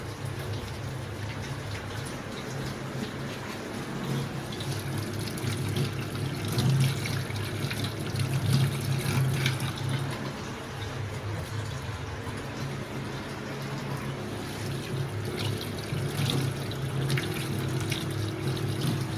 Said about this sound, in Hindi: पानी से क्यों निकाल रहे हो उसको? पानी में बहता रहेगा